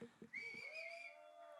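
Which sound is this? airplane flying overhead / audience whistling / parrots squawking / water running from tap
audience whistling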